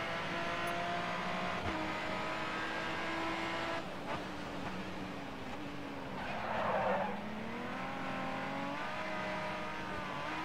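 Race cars in GRID Autosport roar past with rising and falling engine whines, and a burst of tire skidding and squealing breaks in midway over the steady engine drone.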